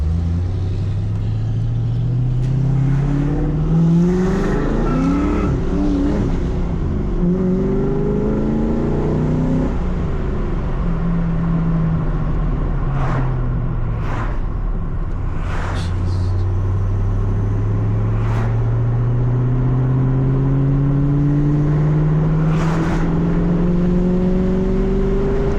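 A 1995 Mustang GT with a 302 high-output V8 pulls hard through the gears, its engine note climbing steeply in pitch, dropping at each shift and climbing again, loud and rumbling from inside the car.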